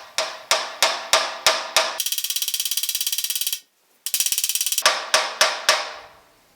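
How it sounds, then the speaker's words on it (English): Pointed hammer tapping lightly on the body of a 1950 Chevy truck, sharp metallic taps in a steady row, then bursts of rapid rattling taps, close and clear. "I'm just going to use my pointed hammer, and I'm just going to tap lightly right here"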